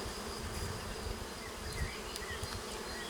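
Honeybees in a crowded hive being opened, a dense continuous buzzing hum, quiet and steady throughout with faint scraping.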